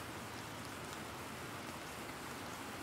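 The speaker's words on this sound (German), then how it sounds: "Aber hier regnet es auch durch die Dächer." Rain falls through the roofs in The Planet Crafter, a steady, even hiss of dense rainfall that stays constant and fairly quiet throughout, with no voices.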